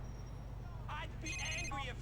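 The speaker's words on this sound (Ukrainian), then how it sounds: "Тим часом нам дзвонить Роман, відповісти, давай." A mobile phone rings in-game during a GTA IV driving session, a short repeating electronic ringtone sounding twice over steady car and ambient game noise.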